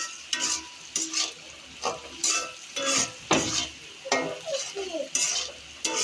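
Dried fish with turmeric and spices sizzling in a pan in a village kitchen, a utensil scraping and stirring in repeated bursts about once a second over a steady frying hiss, close and fairly loud with no voices.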